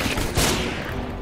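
Pistol fire in the video game CS:GO, a brief, sharp burst of shots that stands out loud and close with no talk over it.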